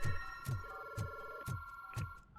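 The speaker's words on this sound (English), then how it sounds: "If all the phones are ringing, it's bad." Several telephones ringing at once in the RoboCop Rogue City video game, a loud electronic bell tone pulsing in steady bursts about every half second over a constant ringing drone.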